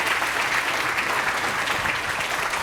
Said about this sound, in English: ladies and gentlemen, big round of applause for our speakers